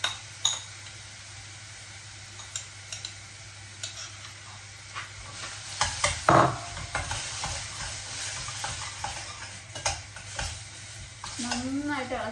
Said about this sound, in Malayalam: നന്നായിട്ട് ഇളക്കണം.